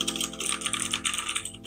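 Rapid, steady typing on an Armaggeddon MKA-7C Psycheagle White mechanical keyboard with blue switches, each keystroke a crisp, close click in a continuous flurry with no pauses.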